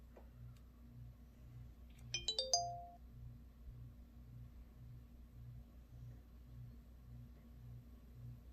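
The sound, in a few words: LG phone start-up chime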